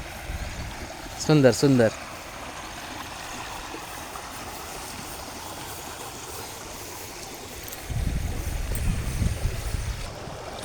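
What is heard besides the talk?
small waterfall-fed stream flowing beside farm fields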